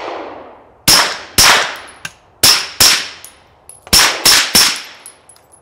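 A PSA Dagger pistol fires 124 grain FMJ rounds outdoors, about eight sharp, loud shots in irregular groups, each with a short ringing echo and faint metallic clinks of casings between.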